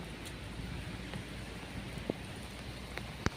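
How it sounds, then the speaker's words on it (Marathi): Steady rain hisses evenly throughout, with a few sharp drips or taps standing out near the end; no voices. "खूप आणि खूप जास्त पाऊस आहे हे बघा"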